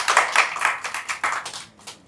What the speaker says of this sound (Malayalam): നകുലനെ ഒരു വലിയ കയ്യടിയോടുകൂടി സ്വാഗതം ചെയ്തു.